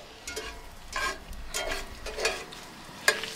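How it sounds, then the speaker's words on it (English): Onions sizzle in a hot pan at a camp trailer, with a soft crackle underneath and several bursts of louder frying as the food is stirred. "Got the onions going in. They're starting to sizzle."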